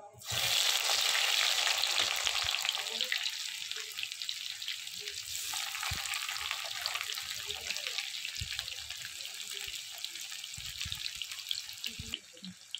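Chopped onion drops into hot oil already crackling with chillies, cumin seeds and bay leaf, flaring into a loud sizzle that settles into a steady fry with occasional stirring clinks.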